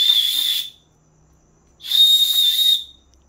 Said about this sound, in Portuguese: aqui é um apito